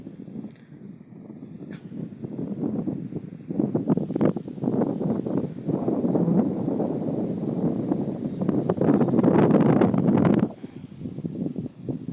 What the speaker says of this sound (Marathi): इकडं वारा किती येतोय बघू शकताय